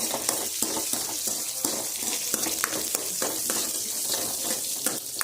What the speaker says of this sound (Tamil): நல்லா மிக்ஸ் பண்ணி நல்லா வதக்குங்க